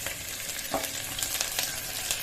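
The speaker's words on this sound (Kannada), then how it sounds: "ಈಗ ನಾನು ಇದಕ್ಕೆ ಪಲಾವ್ ಎಲೆ ಹಾಕ್ಕೊಂಡ್ಬಿಡ್ತೀನಿ ಸ್ವಲ್ಪ ಜೀರಿಗೆ ಕೂಡ ಸೇರಿಸ್ಕೊಂಡಿರ್ತೀನಿ ಈರುಳ್ಳಿ ಕಾಲಿಫ್ಲವರ್" Bay leaf, cumin, onion and cauliflower fry in hot oil for pulao, a dense steady sizzle with a few light clinks of a stirring spoon, close and without speech.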